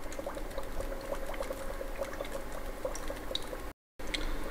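Slaked lime soaking in water to make lime putty for lime wash fizzes and bubbles steadily as trapped air rises from the bottom, a close, continuous gentle hiss broken by a brief drop near the end.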